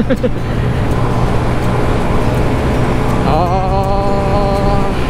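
A Honda Scoopy 2020 scooter's engine runs at high RPM while riding, giving a loud, steady buzzing drone under rushing wind noise. A higher pitched tone climbs partway through.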